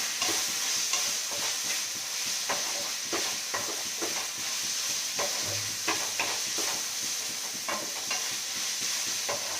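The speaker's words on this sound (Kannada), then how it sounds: "ಶುಂಠಿ ಬೆಳ್ಳುಳ್ಳಿ ಪೇಸ್ಟ್ನ ಆ್ಯಡ್ ಮಾಡ್ಕೊಳ್ತೀನಿ ನಾನು ಇದಕ್ಕೆ ನೀಟಾಗಿ ಫ್ರೈ ಮಾಡ್ಕೊಳ್ಳೋಣ" Ginger garlic paste fries with chicken sausage in a pan, a steady sizzle broken by repeated scraping, stirring clicks at an irregular rhythm, close and alone without voices.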